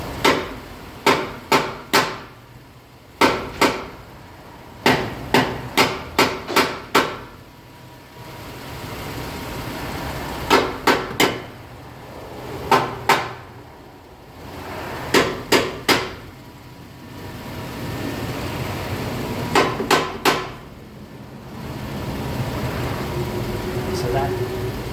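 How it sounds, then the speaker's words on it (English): Hammer tapping an exhaust flange into place on a Ford Transit 150, sharp metallic blows in quick bursts of three to five, separated by pauses, over a low engine-like hum. "if I tap this flange in and see if we can't get it to butt up"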